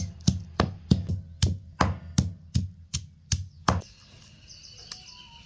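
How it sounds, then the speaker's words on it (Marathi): Green chillies and garlic are pounded in a mortar and pestle: about ten sharp, evenly spaced thuds at a steady beat, close and clear, then a quieter, scuffing stretch as the pounding stops. "हे सगळं खलबत्त्यात चेचून घ्यायचं।"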